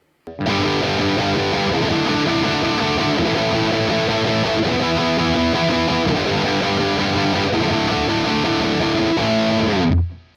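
A heavily distorted electric guitar plays through the Amped Dual amp plugin on its Tight and Thick preset from the Channel 3 Vintage, chugging loud and dense for about ten seconds, then stopping abruptly.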